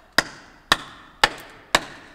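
Cartoon wood-chopping effect as trees are cut into boards: four sharp, evenly spaced chops about half a second apart, each a crisp woody crack with a short ringing decay, clear and close with nothing else in the background.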